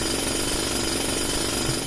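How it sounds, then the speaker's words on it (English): In The Darkside Detective, a hammer smashes a sewer gate, heard as a dense, loud, continuous rattling clatter of metal impacts that holds steady throughout. "use the hammer on the sewer gate!"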